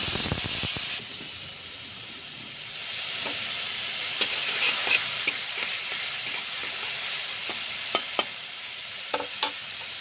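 Nigella seeds hit hot oil in a pan for a fish curry, setting off a steady, bright sizzle and hiss with a few small pops and crackles scattered through it.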